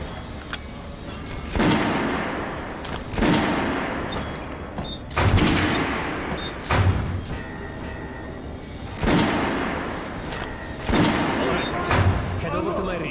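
Weapons test-fired on a range in the Metro Last Light video game, with repeated heavy gunshot bursts every second or two over a rumbling game background.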